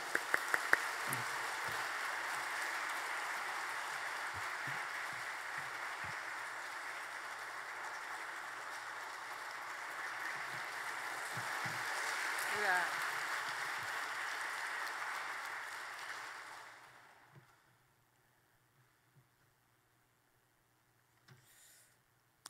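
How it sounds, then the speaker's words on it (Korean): A church audience gives a long, even wash of applause to welcome a missionary speaker, lasting about seventeen seconds before fading into a quiet room with a few soft knocks. "우리 큰 박수로 함께 환영하도록 하겠습니다."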